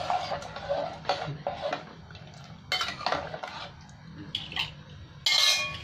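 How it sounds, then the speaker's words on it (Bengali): Metal clinks and clatters from a pressure cooker being handled, its lid set and closed and a spoon stirring sambar dal, come in short separate bursts with quiet gaps, ending in a sharper, brighter clank. "আর কুকারের ঢাকনটা বন্ধ করছি, একটু নেড়ে ছেড়ে নিয়ে"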